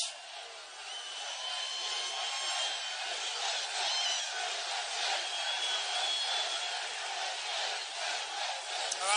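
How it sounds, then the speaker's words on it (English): A large concert crowd cheers and shouts, a dense, sustained roar of many voices filling the whole stretch at a steady level, heard from the stage. "This is a Rather nice crowd."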